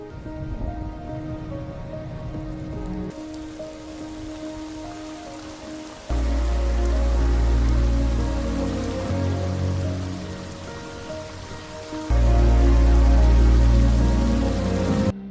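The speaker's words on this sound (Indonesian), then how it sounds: "setelah hujan mengguyur pemakaman kakaknya." Steady rain pouring down over a funeral, a dense continuous hiss that jumps louder in stages, with no voices.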